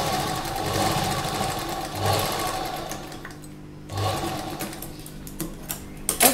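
A sewing machine runs steadily while stitching a cotton slip, its motor whirring continuously with brief pauses and restarts, close and fairly loud.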